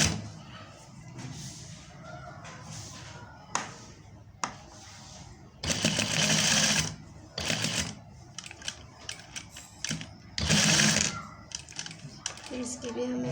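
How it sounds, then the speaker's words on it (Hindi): A sewing machine stitching a fabric neckline, running in short bursts of rapid mechanical whirring, close and fairly loud, separated by pauses with small clicks and handling sounds. "इसे हम ऐसे हटा के और दूसरी साइड पे सिलाई लगाएंगे।"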